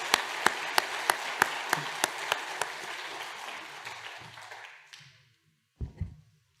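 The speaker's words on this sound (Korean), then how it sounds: "우리 자리에 앉으실 때 다시 한번 축복의 박수 부탁합니다." Church congregation applauding during a Sunday worship service, a steady burst of many hands clapping for about five seconds, then fading to silence before a brief low thump.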